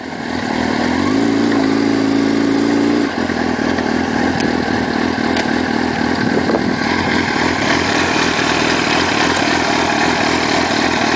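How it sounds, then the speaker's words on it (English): A Yamaha R6 sport motorcycle engine runs loud and steady throughout, with a deeper revving note for the first few seconds that then settles into a continuous mid-pitched drone, with no talking. "This bike, you know, it's a good, lots of power, this R6."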